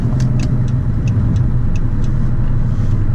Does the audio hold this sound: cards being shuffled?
no